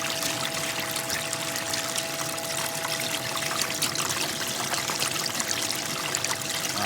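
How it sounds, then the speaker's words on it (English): Water rushing steadily through a Gold Tower sluice while cleaning up gold-bearing material, a constant, close, full pouring flow with no pauses. "then we'll lower our water flow down so we can see where the nugget's at"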